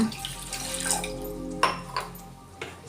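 Water runs and pours briefly into a container, followed by a few light clinks of a pot or utensil.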